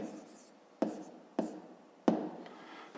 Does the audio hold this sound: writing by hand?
yes